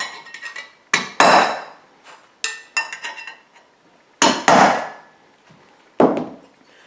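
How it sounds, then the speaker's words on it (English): Sharp metallic hammer strikes on a flathead screwdriver knocking out an electrical box's knockouts, about six in uneven pairs with pauses between, each ringing briefly before fading; close and fairly loud, with no talking. "we're going to take a flathead screwdriver and a hammer"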